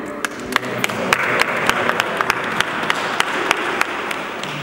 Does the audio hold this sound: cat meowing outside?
no